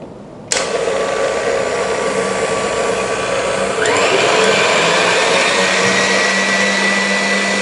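An electric mixer beats cake batter with emulsifier at high speed, switching on abruptly and whirring steadily and loudly, with the pitch rising slightly partway through as the speed increases.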